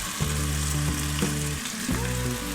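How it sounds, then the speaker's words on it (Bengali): Tomatoes and red chili powder frying in hot oil, a steady close sizzle with a few clinks and scrapes of stirring in the pan, no voices. "খুব ভালোভাবে টমেটোটাকে ফ্রাই করে নিচ্ছি।"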